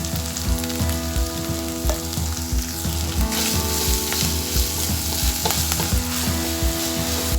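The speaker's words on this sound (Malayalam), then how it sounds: "ജിഞ്ചർ ഗാർലിക് പേസ്റ്റിൻ്റെ പച്ചമണമൊക്കെ ഒന്ന് മാറുന്ന വരെ ഒന്ന് വഴറ്റി കൊടുക്കാം" Ginger garlic paste with turmeric sautés in a pan for a soya chunk curry, giving a steady, close sizzle with regular rhythmic stirring knocks throughout.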